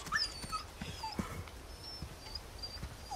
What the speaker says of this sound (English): Oh, that's the wolf.